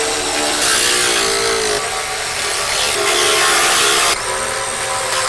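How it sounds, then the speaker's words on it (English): Loud, grinding buzz of a tool tightening bolts on rock sliders fitted to a 2010-2023 fifth-generation Toyota 4Runner, a harsh, continuous run that surges and eases in a few spurts close by. "I'm going to go through and tighten up the bolts."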